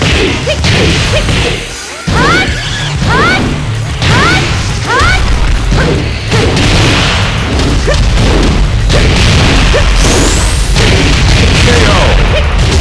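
Tekken 8 fight between two Asuka characters: rapid strikes, whooshing swings and heavy impact thuds land in quick succession over constant loud game music and effects, with occasional sweeping swish sounds.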